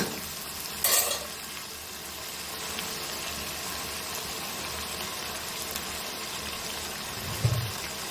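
Rice and masoor-kalai lentils go into a frying pot with cooked chicken for khichuri, a steady sizzle with stirring and a sharp clatter as the grains drop in, plus a short knock later.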